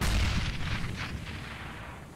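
Gunfire from a distance in Counter-Strike: Global Offensive, a low booming report that opens the clip and fades into a rumbling tail, with no voices over it.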